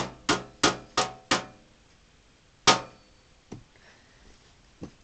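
Four rapid hammer strikes ring out, then a pause and one more solid blow, with a few faint knocks trailing after.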